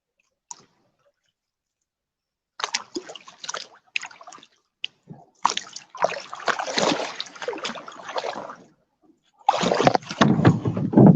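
A canoe or kayak paddled on water while fishing, with scattered knocks and clicks at first, then longer stretches of close dripping and splashing strokes growing louder toward the end.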